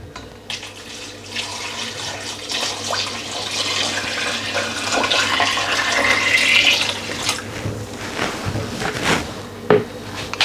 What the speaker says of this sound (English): And then I'm going to add the water straight in.